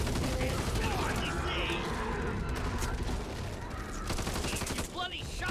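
Bursts of rapid gunfire in the co-op zombie shooter Back 4 Blood, crackling volleys with mechanical clicks that run continuously and fairly loud, with players' voices mixed in.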